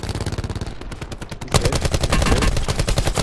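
Rapid automatic gunfire in Call of Duty Blackout, a dense rhythmic stream of loud close shots that grows heavier partway through, with no talking.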